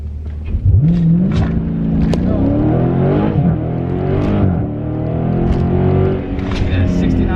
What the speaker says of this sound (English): Stop, activate launch control.